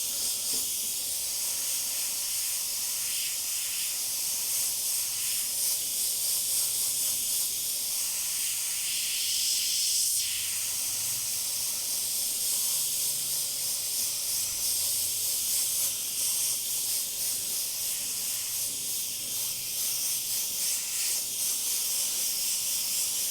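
An airbrush sprays paint steadily for skull and fire artwork, giving a continuous close hiss that holds even throughout with slight swells and no talking.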